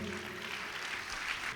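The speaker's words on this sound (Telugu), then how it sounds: "అందరూ చప్పట్లు కొట్టండి గట్టిగా." A church congregation claps together in a steady, dense patter that fills the space at moderate volume, sustained for a moment without talk.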